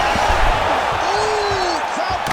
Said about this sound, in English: crowd pops as he gets out again